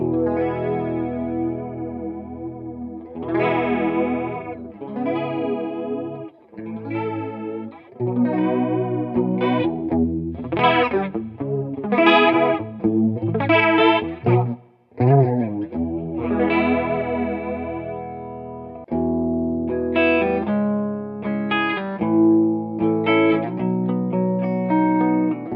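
Guitar run through a Fender Hammertone flanger pedal at a slow rate, playing chords and single notes with a gentle, slowly sweeping whoosh over sustained tones, steady and fairly loud with no talking.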